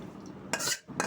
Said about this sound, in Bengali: এখন অন্য একটি কড়াইয়ে পরিমাণ মতো তেল নিয়ে নিতে হবে।